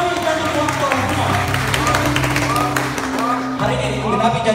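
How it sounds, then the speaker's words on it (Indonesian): A church congregation at a youth worship service in Yahukimo, Papua claps in a steady, dense wash of applause, with voices and musical tones carrying through it. "tepuk tangan banyak sekali"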